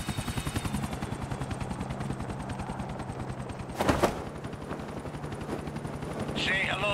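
Helicopter flying in the video game GTA The Ballad of Gay Tony, a steady rapid rotor chop throughout, with a brief burst of gunfire near the middle and a voice speaking near the end.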